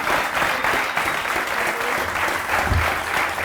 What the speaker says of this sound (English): I'd like to finish by giving a round of applause to Paddy.